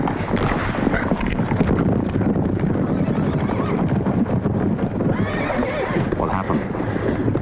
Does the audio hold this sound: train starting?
no